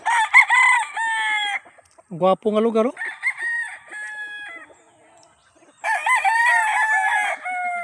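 Roosters on a seaside farm crow loudly and close in several long calls, with clucking and a brief voice between them.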